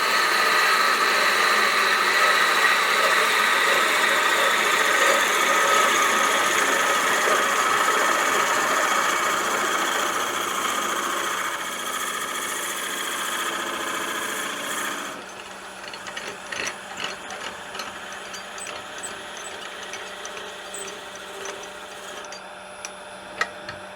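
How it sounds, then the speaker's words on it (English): A 1 3/8-inch Forstner bit bores into a wooden gnome blank in a woodturning shop, making a steady, loud motor whir with grinding that runs for about eleven seconds, then eases to a quieter hum with light rattles. "we've stepped up to an 1 3/8 bit, and we're going to go ahead and drill it out."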